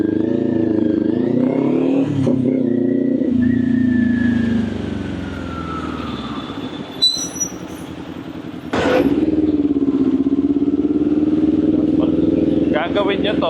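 Kawasaki Ninja 400 motorcycle riding through Manila traffic, its engine droning and rising in pitch through gear changes, easing off mid-way then revving back up, with a rider speaking over the engine.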